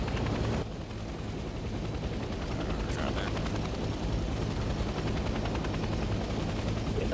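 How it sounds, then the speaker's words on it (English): A helicopter's steady rotor thump and engine roar fills the scene in the Vietnam-era shooter Hell Let Loose Vietnam. It stays loud and close throughout, with faint distant gunfire and voices talking over it. "The copter, that they're like, hey, do you need a ride?"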